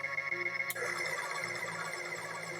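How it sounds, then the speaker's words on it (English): A harsh, shrill tyre-skid effect from the Amiga version of the racing game OutRun, a steady grating synthetic squeal running continuously at high level over the game's music and engine drone. "That is an awful skid sound."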